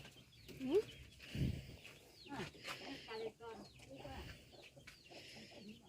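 Quiet chicken clucking with a few short squawks amid soft background chatter and rustling, distant and low in level.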